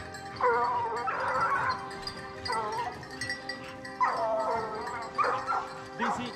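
Several hunting dogs bark and yelp in repeated bursts during a wild boar hunt outdoors, the calls carrying from a moderate distance with short gaps between them.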